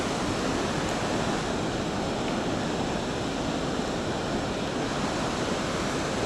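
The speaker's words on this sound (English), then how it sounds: "Still, watch those rapids." River rapids on the Potomac at Great Falls make a steady, broad roar of rushing water. It is constant and fairly loud, with no voices.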